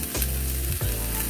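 French beans and cauliflower drop into golden-brown frying onions, setting off loud, close bursts of sizzling with two heavy thumps as the vegetables land in the hot oil, then a steady hiss.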